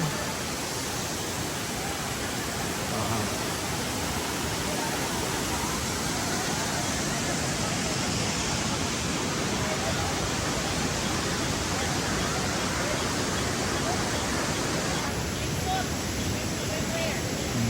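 A steady, dense roar of rushing water fills the whole stretch without letup, loud and close, like a waterfall pouring nearby, in Piduan, Don Victoriano, Misamis Occidental.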